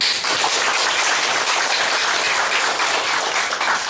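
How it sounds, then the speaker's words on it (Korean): Dense applause from a congregation at a plaque-unveiling ceremony, a continuous wash of many hands clapping at once, loud and sustained with no voices over it. "박수!"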